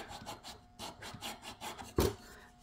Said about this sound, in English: file a groove in here